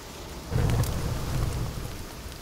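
Steady rain in the survival video game The Forest, a dense, even wash of falling drops with a low rumbling swell that rises suddenly about half a second in and holds, fairly close and full, with no voices.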